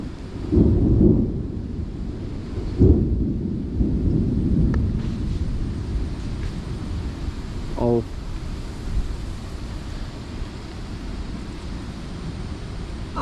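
Low rumbling thunder rolls through a steady wash of rain and wind noise, with a louder crack early on and a constant stormy background.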